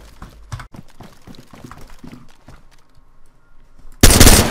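Gunfire in the survival video game DayZ: scattered sharp shots and rattling bursts crackle at mid distance, then a sudden, much louder blast of gunfire erupts close by at the end.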